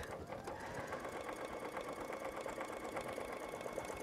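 A sewing machine stitching fabric while making a scissor holder, a steady quiet mechanical whirring with a rapid rhythmic needle clatter throughout.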